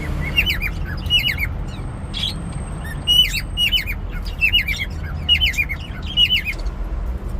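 Many newly hatched chicks chirp and squeak repeatedly in quick bursts, close by, over a low steady background rumble.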